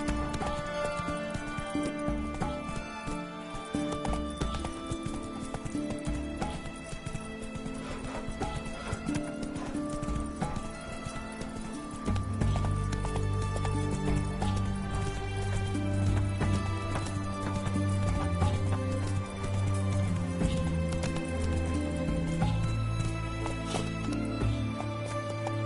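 Roach, the horse in The Witcher 3, gallops in a steady rhythmic clip-clop of hooves with an occasional neigh, over continuous loud game music and ambience.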